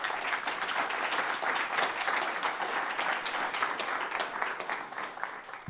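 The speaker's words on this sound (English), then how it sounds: "So a big round of applause for Mike and Colorado Lending." Steady, dense audience applause from a crowd at a live evening pitch event, many hands clapping continuously and fairly close, holding even loudness throughout.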